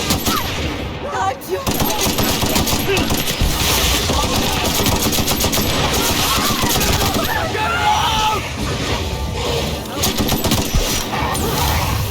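Rapid, dense gunfire from a weapon in the video game The Outer Worlds, loud and near, in continuous bursts with scattered clinks and background commotion.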